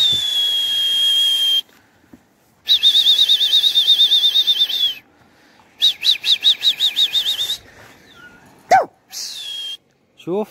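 A flock of domestic pigeons circles overhead, their flight marked by repeated bursts of high, rhythmic whistling and fluttering wing sound that rise and fall as the birds pass, with brief quiet gaps between passes.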